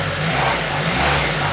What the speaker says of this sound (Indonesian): Khas banget ya, suara mesin 3 silinder Rotax dan mesinnya halus banget.